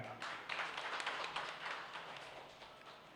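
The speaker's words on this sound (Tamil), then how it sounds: "திரும்ப அவருக்கு ஒரு கைத்தட்டல் கொடுங்க" Audience at a Tamil astrology lecture applauding the speaker, a steady patter of many hands clapping together for about three seconds at moderate distance, with no talk over it.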